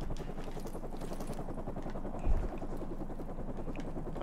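Helicopter in Call of Duty Modern Warfare 2 Remastered, a steady, faint rotor chop throughout, with a single brief thump partway through.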